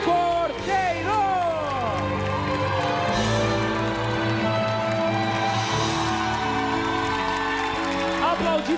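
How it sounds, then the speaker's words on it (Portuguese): A studio audience gives a standing ovation on a Brazilian television show, with sustained applause and cheering under a loud voice talking over it and bright music playing throughout. "Aplaudida de pé pela minha plateia, porque ela venceu."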